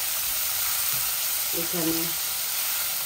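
Onion added to hot oil with browned garlic, a steady, bright sizzle that fills the whole stretch, with a brief voice speaking partway through.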